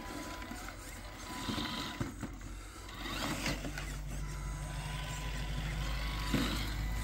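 A Wilderness FM1003 RC scale crawler climbing over flower planters outdoors, with a faint mechanical whir and clicking of its drivetrain under low background rumble.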